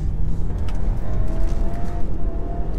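Audi Q5 Quattro with a 245 hp engine driven hard on a UK road, a steady loud engine and road roar through upshifts under acceleration before hard braking, with no talk heard.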